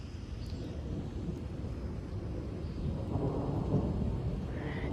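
Rumbling thunder from a severe thunderstorm with close lightning strikes and 60 mph wind gusts, a continuous low roar that swells slightly toward the end, with wind and faint rain noise mixed in.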